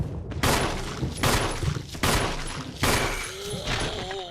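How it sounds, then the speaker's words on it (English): Gunfire from Resident Evil Remastered gameplay: four heavy shots spaced roughly evenly, each booming and decaying, as a character empties the remaining ammo; no talking, with a faint ringing tone near the end. "Now watch, I'm gonna go through every single round I have. Ammo goes so fast in this."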